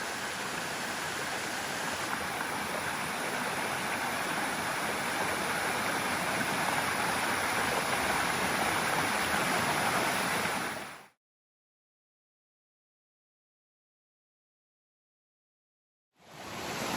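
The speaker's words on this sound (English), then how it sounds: "Not a huge waterfall, only maybe 5 or 6 metres high, but really pretty and a nice pool." A small waterfall about 5 or 6 metres high at Litchfield's Cascades pours into a pool, giving a steady broadband rush that holds for about eleven seconds, then cuts to silence before the rush briefly returns.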